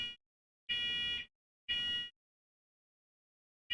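Piercing smoke alarm beeps in a house repeat in a pattern, two half-second tones close together, a long pause, then another begins, nearby with no voices.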